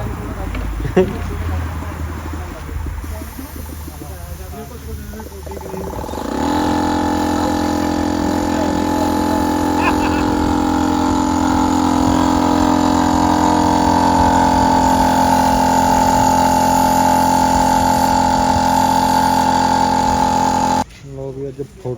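A New Holland tractor engine cranks and catches, then settles into a steady, loud, close diesel idle with a constant drone that runs for most of the clip before cutting off near the end.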